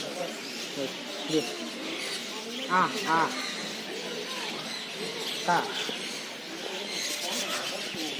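A few short, sharp sparrow chirps come through in quick pairs amid people talking and steady outdoor background noise during a pilgrimage on foot.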